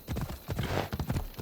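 A horse's hooves clip-clop along a road in Assassin's Creed Odyssey, a steady run of close, distinct beats over a faint game-world background, with no talking.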